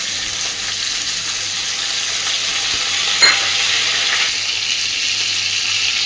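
Small prawns frying in a pan as ginger-cumin paste goes in: a steady, close sizzle throughout with a brief clink and slight surge midway, no talk.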